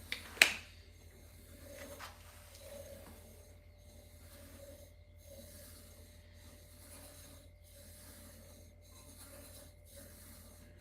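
A blade is drawn across a wet sharpening stone in steady, evenly spaced rasping strokes, about a dozen in a row, quiet and close with a faint steady hum underneath.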